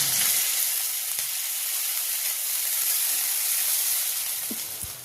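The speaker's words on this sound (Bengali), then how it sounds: "এটা একটু নাড়াচাড়া করে ভেজে নেব।" Onion and ginger paste fries in a pan for a Bengali rui fish curry, giving a steady close sizzle and hiss with a few light stirring knocks near the end.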